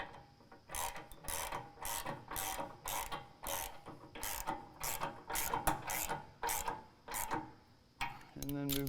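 A ratchet wrench with a 19 mm socket clicks in quick rhythmic bursts while tightening the bolts of a 68-gallon aftermarket fuel tank on a 2017 Ford Super Duty 6.7L Powerstroke crew cab pickup, each burst separated by brief pauses.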